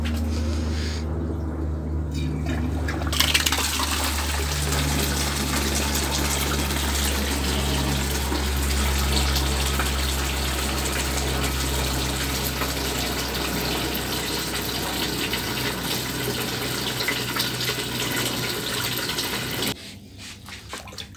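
Fresh water gushing steadily from a tap into a container of ion-exchange resin being rinsed, a continuous close rush that stops abruptly near the end.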